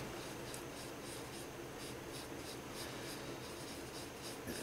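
Graphite pencil shading light tones into drawn clouds on paper, a steady soft scratchy rubbing that continues without break, close and fairly quiet, with no voices.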